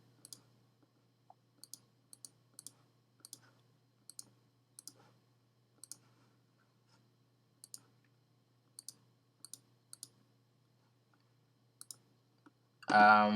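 Mouse clicks from retouching spots on a portrait in Photoshop CS5: single and paired sharp clicks spaced about a second apart, near and fairly quiet over a low steady hum, ending in a brief louder noise burst.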